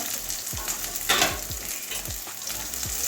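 Onion and green chilies frying in a pan, a moderate steady sizzle broken by regular scraping strokes of a spatula, about five stirs in three seconds with one brief louder crackle.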